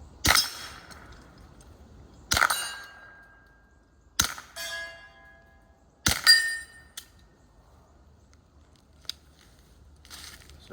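Suppressed 16-inch-barrel rifle firing 147 grain subsonic ammunition, four sharp muffled cracks a couple of seconds apart, each followed by a metallic ring and clink of the action, with a faint click between them.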